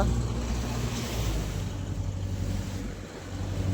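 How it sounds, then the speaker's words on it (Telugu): A fishing boat's engine drones low and steady on the water, close by and fairly loud, with a slight dip in level partway through as it slows. "బోట్ అయితే స్లో చేయడం జరిగింది."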